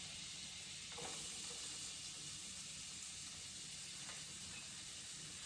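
Garlic sizzling in butter in a pan over medium heat, a soft, even frying hiss with a couple of faint clinks and no talk.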